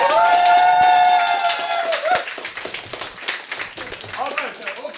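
An audience claps after a poetry performance, scattered applause swelling in after a brief cheering voice and continuing steadily, with people talking over it.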